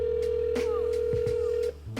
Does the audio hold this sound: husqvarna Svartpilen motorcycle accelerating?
no